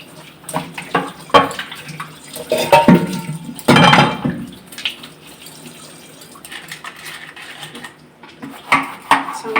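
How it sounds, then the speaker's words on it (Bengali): Tiffin boxes being washed under a running kitchen tap, water splashing irregularly with clinks and knocks of the containers against the sink, close by. "টিফিন সব ধুয়ে নিই"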